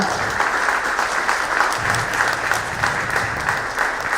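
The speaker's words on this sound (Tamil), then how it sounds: "ஒரு பெரிய கைத்தட்டல் கொடுங்க" Applause from the audience at a devotional stage event: a loud, continuous wash of many hands clapping, close and unbroken from start to finish.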